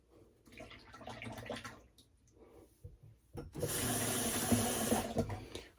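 Tap water running into a bathroom sink while rinsing shave soap lather from a razor and bowl, starting after some soft rubbing and clinking, then a steady loud close splashing stream for about two seconds.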